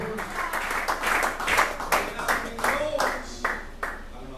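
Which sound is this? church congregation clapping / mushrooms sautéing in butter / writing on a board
church congregation clapping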